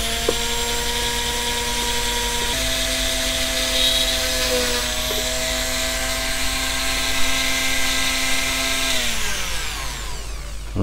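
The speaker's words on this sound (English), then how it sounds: "I've got a 1mm drill in the Dremel, and I've cut out some shapes out of the gasket material I was using." A Dremel rotary tool with a 1mm drill bit bores through gasket material while making small washers for a Kriesler 3K40 valve radio restoration, a steady high whine with a shifting pitch that winds down near the end.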